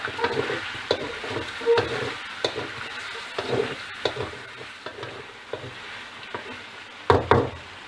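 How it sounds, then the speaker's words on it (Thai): Pork belly stir-fried with shiitake mushrooms and minced garlic, a steady sizzle under repeated scraping and knocking spatula strokes, close and fairly loud throughout, with no voices. "พอผัดหมูได้ที่เราก็ใส่เห็ดหอม แล้วก็กระเทียมสับค่ะ ผัดให้หอมเลยนะคะ"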